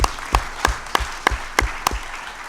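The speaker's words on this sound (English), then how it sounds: "Give them a round of applause." Slow, evenly spaced hand claps, about seven sharp claps close by, with a faint murmur of other clapping underneath.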